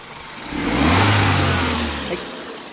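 A turbocharged car engine revs up once, its low roar swelling and holding for about a second before easing back toward idle, close and loud with no voices.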